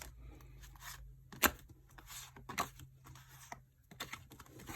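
Soft papery riffling and scattered taps of tarot cards being shuffled, close by and fairly quiet, with a low steady hum underneath.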